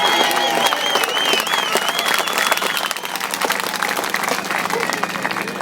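A crowd at a Scottish independence political rally claps and cheers steadily, with dense applause continuing loud throughout and a voice briefly heard over it.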